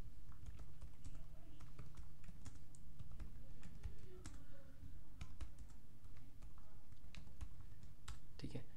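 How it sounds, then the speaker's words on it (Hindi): Continuous typing on a computer keyboard while entering text into a spreadsheet cell, a steady run of small key clicks close by over a low background hum, with no talk. "अगर मैं इस सेल में कंटिन्यूसली टाइप करता रहता हूँ कुछ भी"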